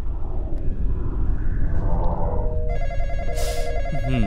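Telephone in the Roblox game Intruder, nightmare mode, rings with a repeating electronic trill over a loud low rumble of game ambience, entering partway through and continuing to the end.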